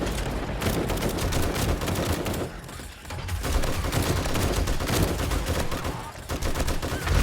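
Continuous automatic gunfire in the survival game 7 Days to Die, played on insane mode while defending a base from zombies, with loud rapid shots pounding almost without pause and a brief lull midway.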